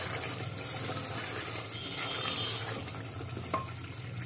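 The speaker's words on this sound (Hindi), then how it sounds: "तो यहाँ मैं इसमें डाल देती हूँ पानी, ये मैंने इसमें पानी ऐड कर दिया है।" Water poured into an okra and mutton stew in a home kitchen, a steady low splashing pour that runs evenly under a faint sizzle, close and moderately quiet throughout.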